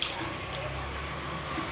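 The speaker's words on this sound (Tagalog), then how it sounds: "lagyan natin konting tubig" Water pours steadily into a cooking pot with onion, tomato, tamarind and green chili for Filipino tilapia pangat, a soft, continuous splashing rush, fairly quiet and close, with no other sounds standing out.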